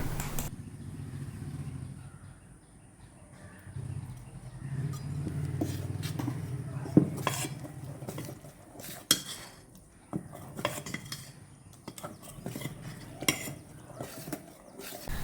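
A spoon clinks and scrapes against a bowl while appam batter is mixed with sugar and salt, a soft irregular run of taps and scrapes over a low background hum.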